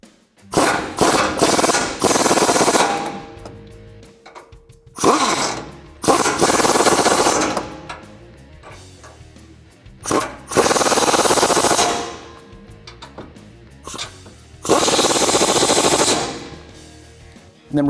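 Impact tool driving a 21mm socket to tighten rear bumper nuts on a 2017-2022 Ford Super Duty, loud close bursts of rapid hammering rattle repeating in several long runs separated by short pauses.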